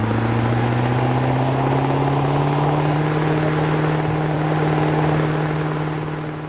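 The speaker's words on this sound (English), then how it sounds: "Hearing that turbo spool down." A loud truck engine in a video game, a 2002 Chevrolet Silverado, drones steadily while a high turbo whine sweeps and then tapers off as the turbo spools down, the engine tone holding low underneath.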